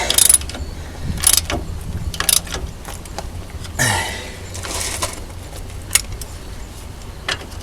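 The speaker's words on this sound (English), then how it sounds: "We're just getting it tight with the small ratchet for now" A small hand ratchet tightens a suspension bolt on a Toyota, with bursts of clicking, metallic clinks and tool handling heard close up amid a quiet garage background.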